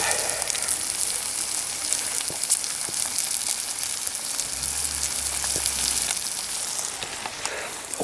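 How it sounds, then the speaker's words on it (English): Sausage meat frying steadily in a pan outdoors in the woods, a continuous close crackling sizzle with small pops, loud and unbroken, no voices. "Slowly frying away."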